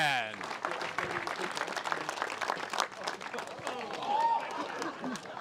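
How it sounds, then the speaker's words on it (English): Crowd applause and cheering for a two-wheel drive world champion at a 1/10 off-road RC car world championship, steady clapping mixed with chatter and a voice over the top. "A big round of applause"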